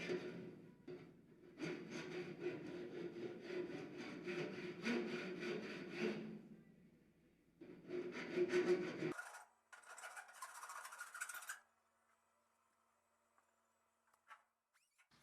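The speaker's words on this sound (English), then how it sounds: "I'm using it to file down the edge." Hand file working the wavy metal edge of a TR250 body tub, rasping strokes in several close bursts, then fainter scraping before silence.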